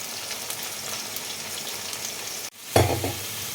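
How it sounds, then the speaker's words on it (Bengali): Steady hiss of taro frying in a pan, a brief cut, then a louder stirring scrape and sizzle near the end. No voices. "কচুটা একটু ভাজা হোক"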